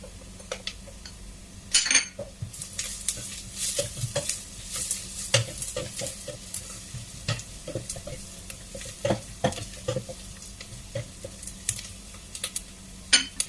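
Garlic and ginger are stirred together in a hot oiled pan for chicken lugaw with malunggay, a continuous sizzle under repeated clicks and scrapes of a utensil against the pan, close and fairly even, with no talking.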